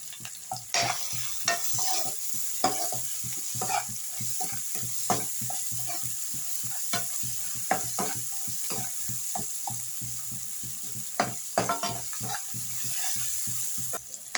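Tomato, onion and salt stir-fry in a pan, a sizzling hiss running under a rapid series of scraping stirs that keep an uneven rhythm, close and clear with no voices.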